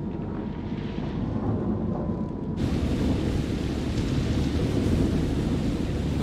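A storm in the video game Man of Medan rumbles with loud, continuous low thunder and steady rain noise, swelling and growing brighter partway through, with no voices over it.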